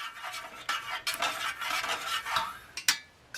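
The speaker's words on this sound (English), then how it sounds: "Stir this up a little bit." A spoon stirring an instant coffee drink in a cup, scraping and clinking steadily against the sides with a few sharper taps, close and fairly quiet.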